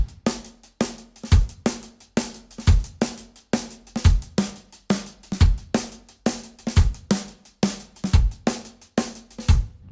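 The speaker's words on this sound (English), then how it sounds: "So you want the hi-hat tightly clenched." Drum and bass kit groove with a tightly clenched, short hi-hat ticking over fast kick and snare hits in an even, driving repeating pattern, close and loud without talk.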